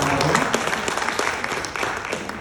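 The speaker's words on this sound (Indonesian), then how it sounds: "Mari kita beri tepuk tangan sekali lagi." Steady applause from an audience at a formal signing ceremony, dense continuous clapping from many hands throughout, fairly loud and close with no talk over it.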